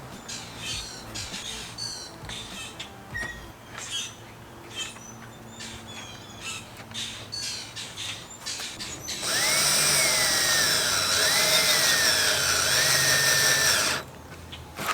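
A power drill bores holes for threaded inserts in the deck of a 14 ft jon boat, starting about nine seconds in as one loud, steady high whine that runs for roughly five seconds before stopping.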